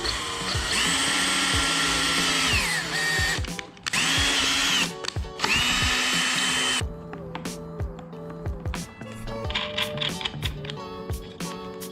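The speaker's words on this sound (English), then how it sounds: "We're gonna use the drill to actually come around to all the pre-cut holes on the bottom of the side skirt and drill out for the rocker" Power drill boring out the pre-cut holes on the bottom of a 2022 Toyota GR86 side skirt for rocker panel mounting, three loud whining bursts with pitch dropping at the end of each, followed by clicks and handling noises.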